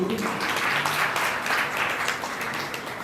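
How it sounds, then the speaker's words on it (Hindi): An audience claps during a Jain religious discourse. A steady, even wash of many hands clapping goes on for about three seconds, full and close, with no speech over it. "बजा दो ताली आपने।"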